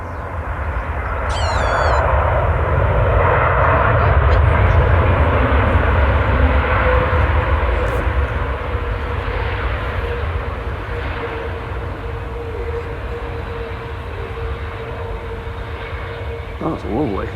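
A specially liveried airliner passes at Manchester Airport, its engines a broad, steady roar at moderate distance that swells and then slowly fades, with faint background chatter.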